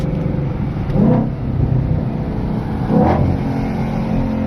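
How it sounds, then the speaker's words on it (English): A Shelby GT500 engine revs twice in quick blips on a downshift over a steady idle, loud and close, with no voices. "Let's give him a little downshift."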